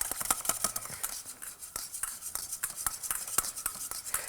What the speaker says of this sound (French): Et je continue de remuer en faisant des huit.